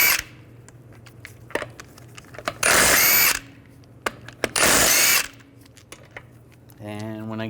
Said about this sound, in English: I'm going to remove the front wheels using a 17mm socket